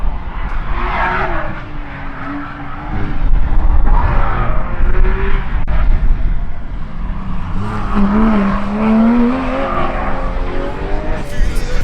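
A Porsche 911 GT3 991.2 with its 4-litre naturally aspirated 500-hp flat-six is driven hard on a race track. The engine note climbs and falls through gear changes, loud and close, with a rising high-revving wail near the end.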